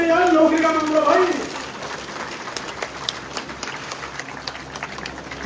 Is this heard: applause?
yes